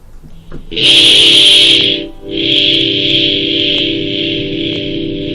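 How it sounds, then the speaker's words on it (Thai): An electric guitar through a distortion effect plays a chord that rings out loud and close, cuts off briefly, then sustains again with a gritty, buzzing tone. "พอมีเอฟเฟกครับเราจะพบว่าเสียงแตกนะ"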